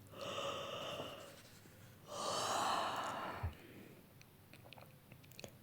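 A narrator's voice imitates a sleepy rabbit's yawn in a children's audio story, a drawn-out breathy gasp followed by a second longer yawning exhale and a soft thump, close and quiet.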